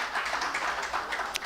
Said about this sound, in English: Please, could you clap for the National Assembly